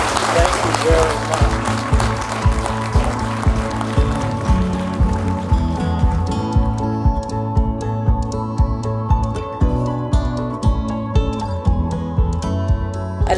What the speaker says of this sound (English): So I think you deserve another round of applause for that.